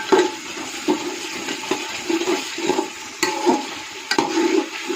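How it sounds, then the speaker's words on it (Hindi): Boiled chickpeas fried in a pan, giving a steady sizzle with rhythmic scraping and stirring strokes of a spoon throughout, close and fairly loud. "अब ये जो आम नॉर्मल चने होते हैं वो डाल लेते हैं पहले, और इसको भून लेते हैं अच्छे तरीके से।"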